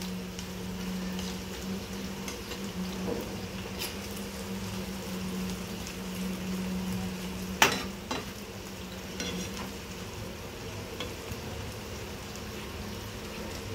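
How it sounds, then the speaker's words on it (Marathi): Egg and bread omelette mixture sizzles softly in a pan as it is sautéed, a steady low frying hiss with one sharp spatula scrape or knock midway and a few fainter taps, no talking. "त्याला छान असं परतून घेऊया आपण."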